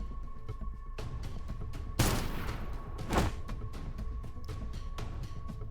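Gunfire in the video game Snowbreak: two sharp bursts of shots, one around the midpoint and a second shortly after, cutting through a steady low game ambience with a faint hum.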